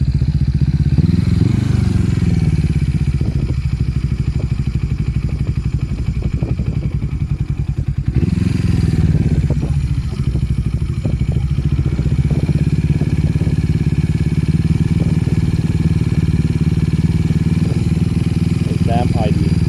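A Yamaha XS400 motorcycle engine, just repaired after a spark plug coil fault, idles loudly and close up with a steady low rumble and light mechanical clatter, holding an even pulse throughout with a brief swell partway through.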